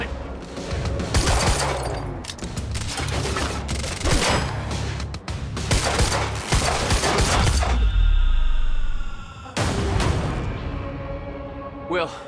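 A prolonged firefight in the Quantum Break video game: loud, sustained bursts of automatic gunfire with heavy booms and thuds, a brief lull near the end, then another burst, with voices occasionally mixed in.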